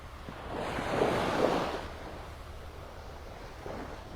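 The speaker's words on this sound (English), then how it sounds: "Every once in a while we get a series of waves that are just a little bit bigger," Waves wash onto the beach at Pelican Bay in Naples, Florida, one soft surge swelling and fading, then a fainter wash later, with light wind noise throughout.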